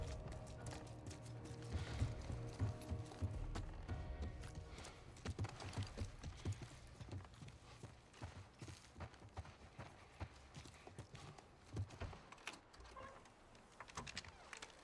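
Hooves clip-clop in an uneven rhythm over a low rumbling background, steady clopping footfalls of a horse moving along in the video game The Last of Us.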